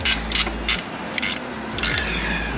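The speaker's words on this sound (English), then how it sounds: "Let's get a ratcheting wrench." A ratcheting wrench runs down a bolt on the gear case of a Mercury 200hp outboard lower unit, giving close, rapid bursts of metallic clicking in uneven strokes.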